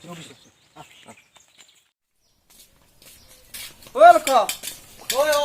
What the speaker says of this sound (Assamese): এই বাচন অলপ ধুই আছোঁ